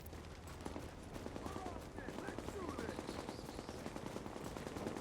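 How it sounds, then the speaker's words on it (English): Rapid gunfire from an M44 rifle in The Division, dense repeated shots blending with other combat fire and game effects at a steady loudness throughout. "What do you think the M44 is firing?"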